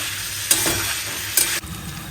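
Spice paste being stirred and sautéed in a pan, with a steady sizzle and two brief louder bursts of scraping, close by and with no talking.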